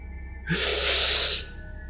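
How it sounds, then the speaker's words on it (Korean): A single loud, breathy rush of air, close up, lasting about a second, like a sharp collective intake of breath against a quiet background. "일제히 숨을 들이마셨습니다."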